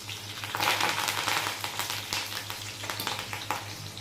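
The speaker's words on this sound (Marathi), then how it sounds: "तेल छान गरम झालेलं आहे, त्यामध्ये टाकूया जिरे, मोहरी, लसणाच्या पाकळ्या, कढीपत्ता" Cumin, mustard seeds, garlic cloves and curry leaves sizzle in hot oil, a close, steady crackling fry with scattered sharp pops throughout.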